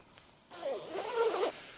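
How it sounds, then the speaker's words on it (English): A YKK AquaGuard waterproof zipper on a rain jacket is pulled once in a single quick zip, close and clear, lasting about a second. "these are YKK AquaGuard zippers. The best on the market."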